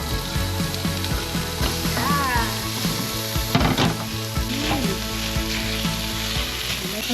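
Chicken frying in a pan with garlic and onion for pancit bihon, a steady close sizzle with stirring and clatter of utensils throughout, with a brief whistle-like tone in the middle.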